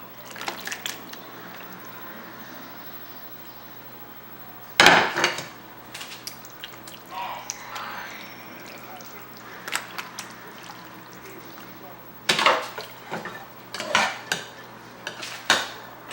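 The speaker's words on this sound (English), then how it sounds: "we're just going to start pouring half of the ziti into the pan" Baked ziti is poured and scraped from a pot into a pan, with several sharp metallic clanks of cookware and utensils, scattered softer scraping and plopping sounds, and a steady low hum underneath.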